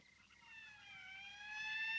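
A police siren in a 1959 film wails as a long, steady tone that slowly bends lower and then rises, with a second layered wail joining and growing louder as it approaches.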